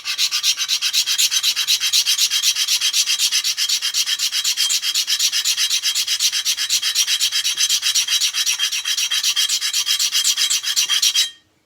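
A diamond sharpener grinds down the damaged blade of a Microtech Socom Elite knife in fast, even rasping strokes. The harsh scraping is close, loud and continuous for over eleven seconds before it stops abruptly.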